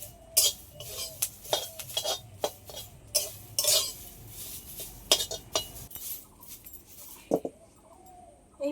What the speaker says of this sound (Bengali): এই পাতাগুলো ভাজার সময় খুন্তিতে ঘন ঘন নেড়ে দিতে হবে